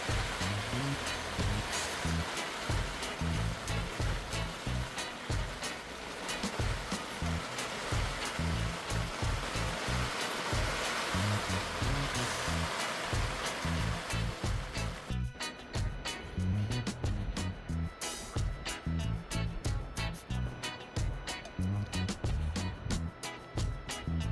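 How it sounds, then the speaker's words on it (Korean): Strong wind and heavy rain batter a seaside campsite at Saetbyeol Beach on Anmyeondo, with a steady roar of rain and wind throughout. Beyond the halfway point the wash thins and crackles with sharper drops. "강풍과 폭우가 쏟아지고 있습니다"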